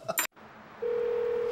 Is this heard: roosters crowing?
no